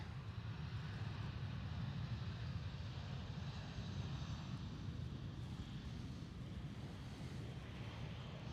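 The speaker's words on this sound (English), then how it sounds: "There's EasyJet Airbus" An EasyJet Airbus A320 at Amsterdam Schiphol airport gives a steady, broad jet roar that holds evenly throughout, heard from a distance with no voices.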